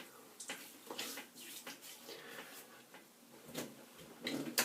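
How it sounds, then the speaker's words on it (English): Water splashes in soft, irregular handfuls as someone rinses their face at a sink before shaving, nearby and fairly quiet. "so let me just rinse my face"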